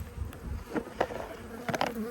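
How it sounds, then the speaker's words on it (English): Honey bees buzz busily during a hive inspection in Australia, a close, dense, wavering hum that goes on throughout with scattered louder passes as bees fly near. "And a lot of bees"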